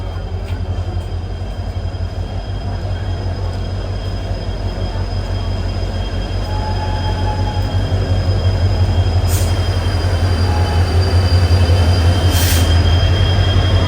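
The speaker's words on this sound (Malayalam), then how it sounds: "ഇത് തന്നെയാണ് ഇതിൻ്റെ ലോക്കോമോട്ടീവ് വരുന്നത്, WDP4D." A WDP4D diesel locomotive arrives with its train at a Karnataka station on the Vijayapura to Mangaluru route, a continuous loud low rumble and rolling wheel noise building steadily, with brief high wheel squeals near the end.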